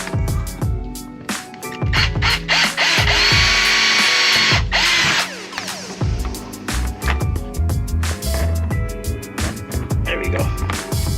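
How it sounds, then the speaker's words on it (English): A power drill whirs in several short bursts while installing a rear camera in a car, with a longer sustained run in the middle, interspersed with clicks and handling noises close by. "Drill. It's probably a little bit bigger than what I need."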